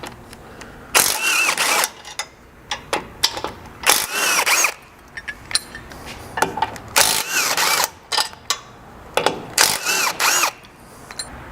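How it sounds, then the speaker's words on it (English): A hand ratchet with a 17mm socket backs out tow hook bolts on a 200 Series Land Cruiser, making repeated bursts of fast clicking close up, separated by brief pauses, with no talking. "you can drop both of these tow hooks out of the way using your 17mm socket."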